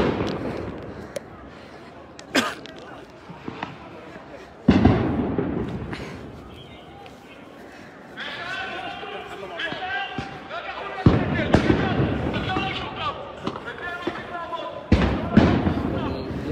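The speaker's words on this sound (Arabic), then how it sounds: "تطلق الآن قنابل الصوت والغاز على الشبان." Stun grenades and tear gas canisters fired at young men in the Dome of the Rock courtyards of the Al-Aqsa compound in Jerusalem: several sharp, loud bangs at irregular intervals over crowd noise and a voice talking.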